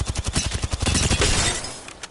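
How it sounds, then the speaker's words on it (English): Volt SMG in Apex Legends, fitted with full attachments, fires a rapid, loud burst of continuous automatic gunfire that fades out near the end, with no talking over it. "The recoil control on the Volt is a little bit more difficult than a lot of the other SMGs."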